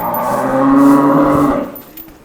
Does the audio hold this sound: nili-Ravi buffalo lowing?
yes